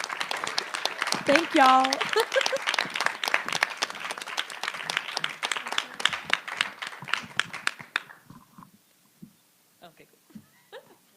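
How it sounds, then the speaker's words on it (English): Audience applause after a student body presidential candidate debate, dense clapping filling the room for about eight seconds with a voice speaking over it, then fading to scattered claps and quiet. "let's give a round of applause to both our ASUA Student Body President candidates"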